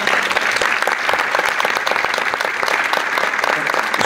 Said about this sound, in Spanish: Yo quiero que le brindemos un aplauso ya